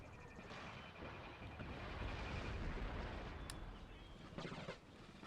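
Cannon and artillery booms rumble through a large battle in Empire Total War, dense low thuds and crackling blasts layered continuously with a sharper crack near the end, mixed under faint voice.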